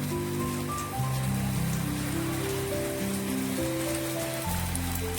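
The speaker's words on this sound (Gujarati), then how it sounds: "હજુ બરાબર પડે છે વરસાદ" Heavy monsoon rain pouring in the forest of Ahwa in the Dangs, a dense, steady hiss of drops drumming on surfaces that stays loud and unbroken throughout.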